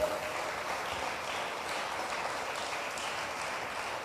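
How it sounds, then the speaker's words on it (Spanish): A congregation at a Pentecostal church service claps hands in a dense, sustained burst of applause, a steady wash of many hands held at an even level with no pause. "Dele fuerte las palmas al Señor"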